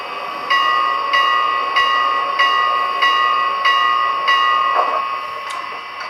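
A Big Boy steam locomotive's bell rings close and clear while the engine stands still, striking about nine times in an even, steady rhythm, with each bright, ringing stroke blending into the next over a quiet mechanical background.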